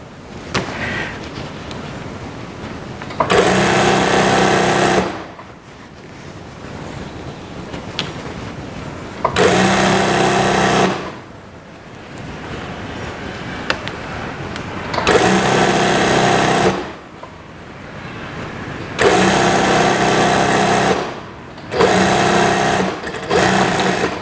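Sewing machine stitching drawstring shorts in four loud, steady runs of a few seconds each, broken by quieter pauses with faint handling noise between.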